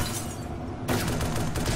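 Dense burst of rapid video game gunfire, a continuous rattling barrage of shots that thickens and brightens partway through, loud and without talk.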